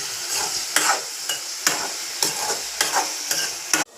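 Onions sizzle steadily in a hot pan for a Telugu Maggi-style curry, with a spoon scraping and stirring in regular strokes about every half second, close and fairly loud, no talking.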